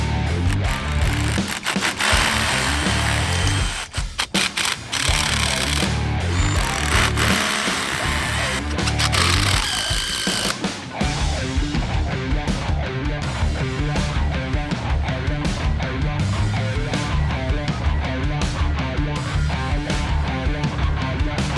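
A loud power drill whirs and grinds through wood in long bursts while building a dock bench, pausing briefly before another stretch of drilling, close by.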